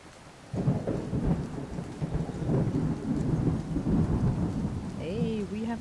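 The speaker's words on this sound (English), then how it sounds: "have achieved thunderstorm" A thunderstorm in the video game Skyrim: steady heavy rain drums on surfaces while deep rolling thunder rumbles throughout, loud and continuous, with no talking.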